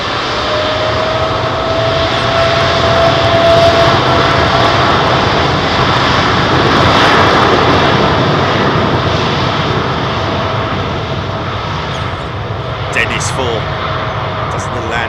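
A Boeing 787-10 with GEnx engines and raked wingtips takes off at London Heathrow, its jet roar loud, close and continuous throughout, while people chat over the steady engine noise.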